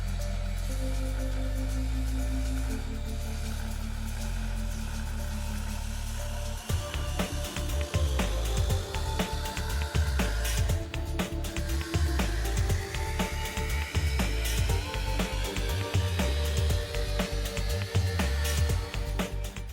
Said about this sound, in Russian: Берем большую болгарку, 230 круг и пробуем резать вот это место